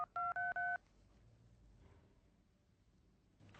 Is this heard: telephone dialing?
yes